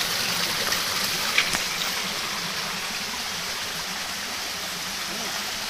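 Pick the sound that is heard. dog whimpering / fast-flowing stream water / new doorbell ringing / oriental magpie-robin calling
fast-flowing stream water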